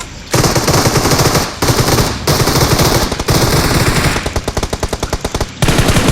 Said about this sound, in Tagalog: May bumabaril sa atin!